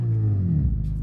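A race car engine in a driving game on the Nurburgring GP circuit drones low and steady under light throttle, rising slightly in pitch, close and continuous.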